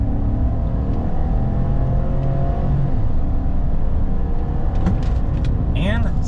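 A 2025 Chevy Silverado with a V8 launches and accelerates toward 60 mph, its engine a loud, steady interior drone and rumble, with a voice talking over it.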